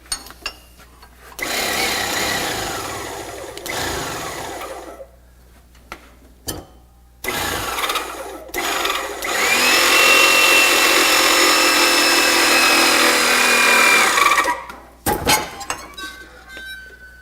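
An electric over hydraulic bender strains as it bends metal, a loud whining pump drone rising over several seconds, cut by clanks and short metallic knocks, close by and without talking.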